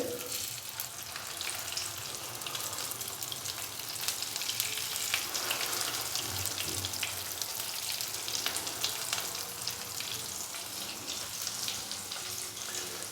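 Potato and chana dal kebabs fry on a tawa with a steady, close, continuous sizzle over medium-low flame, a dense hiss that holds evenly throughout with faint crackles and no talking.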